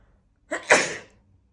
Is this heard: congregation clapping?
no